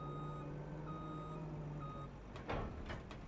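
Steady electronic reversing beeps from an electric truck in Farming Simulator 25 repeat at an even pace over a low vehicle hum, with a brief clatter of noise near the end.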